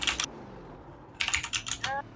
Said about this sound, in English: Zach Johnson is aggressively typing.